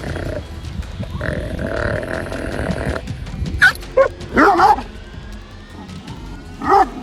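A Kangal dog gives several loud, close barks and yips, with a few spaced sharp bursts after a stretch of lower rumbling background noise.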